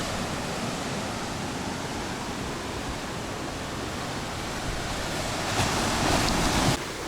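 Steady, loud roar of surf and crashing ocean water along the coast between La Perouse and Henry Head in Sydney, swelling slightly near the end, with no voices.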